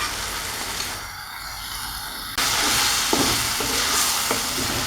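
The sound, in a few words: stirring taki fish bhorta mixture in a pan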